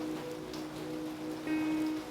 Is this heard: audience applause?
no